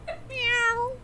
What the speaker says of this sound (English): I think she meowed.